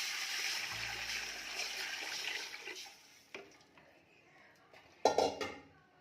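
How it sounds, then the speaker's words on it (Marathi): Water pours into a cooking pot of hot, crackling spiced oil for chicken dum biryani, a steady rushing hiss for a few seconds, followed by clinks of metal utensils against the pot. "ते तेलामध्ये छान तडतडलं की यामध्ये पाणी घालायचं आहे"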